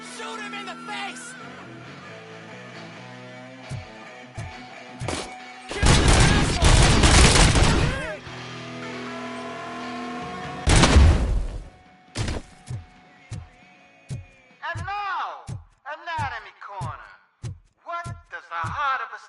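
Gunfire in RoboCop Rogue City erupts in two heavy, dense bursts, followed by a string of sharp single shots spaced irregularly, with game voices talking in between.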